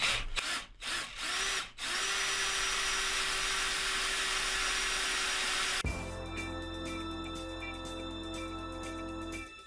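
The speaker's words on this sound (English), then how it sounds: "Now drill it out to full size, and full depth" A power drill whines at high speed, briefly stuttering on and off before running steadily, then shifts to a rougher grinding tone as it bites in, drilling a 5.5mm hole in a pool table for rubber drop pockets.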